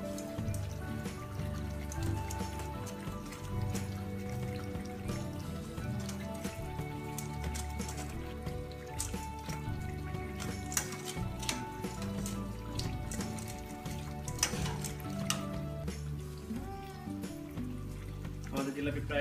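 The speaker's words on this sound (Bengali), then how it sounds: "আমাদের জিলাপি প্রায় ভাজা হয়ে গিয়েছে" Jalebi spirals frying in hot oil in a home kitchen pan, giving a steady crackling sizzle with scattered pops that runs throughout and stays close and fairly loud.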